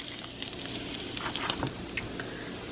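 Rotisserie chicken sizzling and frying in a hot pan for a panini, a steady close crackle with scattered spits and pops throughout.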